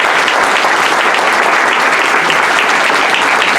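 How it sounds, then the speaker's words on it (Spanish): A conference audience in a hall breaks into loud, dense, continuous applause that holds steady throughout, with no voices above the clapping. "Vamos a mandarles un aplauso"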